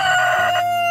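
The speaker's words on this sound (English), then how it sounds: "Here's the roosters we're having calling today." Roosters crowing close by on a homestead, with a loud, sustained harmonic call and a second overlapping crow from a young incubated batch. No talking.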